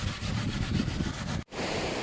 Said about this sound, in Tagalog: So, ganun pa rin ang dagat, malakas.